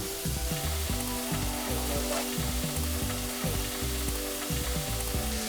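Chicken breast sizzles steadily in a hot pan, frying loudly and continuously while the pieces are shifted around, with faint scraping of the utensil under the constant crackle.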